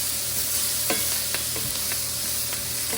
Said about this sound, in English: You can smell those onions caramelizing.